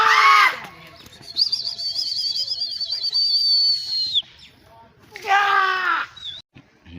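Pigeons call close by in a village, a long wavering whistle-like call between sharper chirps, with a voice briefly heard alongside.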